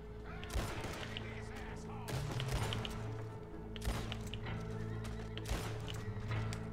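Schofield revolver shots fired in the Western game Red Dead Online, several sharp cracks spaced a second or more apart over a steady backdrop of horse hooves and whinnies, loud and close.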